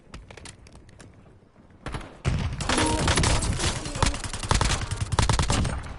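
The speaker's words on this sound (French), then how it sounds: "Ça s'appelle mitrailleuse." Video game machine gun fire starts with scattered sharp shots, then breaks into loud, dense sustained bursts that rattle on to the end, with no talk.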